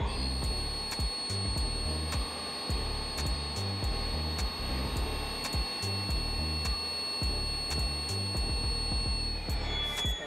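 POSEIDON 1000 automatic DPF filter cleaning machine running a filter test, a steady mechanical hum with a high whine and repeated rhythmic pulsing clicks throughout, continuous and fairly even in level.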